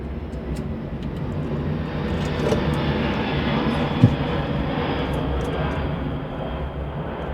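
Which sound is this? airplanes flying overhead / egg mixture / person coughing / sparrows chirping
airplanes flying overhead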